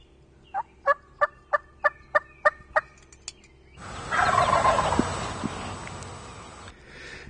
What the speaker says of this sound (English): Brandt gives some soft tree yelps.